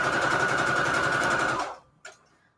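Sewing machine stitching shabby chic fabric onto receipt paper, running in a fast, even mechanical whir up close, then stopping abruptly, followed by a single brief click.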